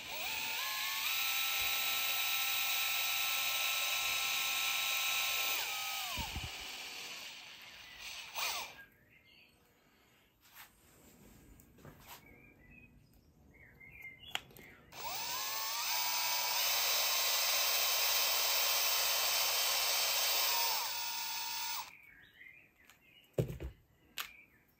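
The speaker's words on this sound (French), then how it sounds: "Donc je perce." A drill bit bores into a FACOM hand tool to lengthen a hole, giving two long steady high whines of several seconds each, separated by a quieter gap with small clicks and handling noises.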